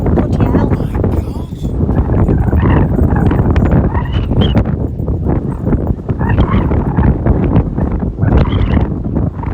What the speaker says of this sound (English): Oh god, it's so windy.